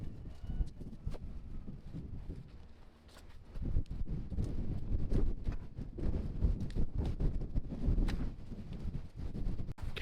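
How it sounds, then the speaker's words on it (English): Strong gusts of wind buffet the microphone outdoors on a farm, producing loud, rumbling low-frequency blasts that rise and fall irregularly, with a brief lull before surging again. "Can't believe how windy it is."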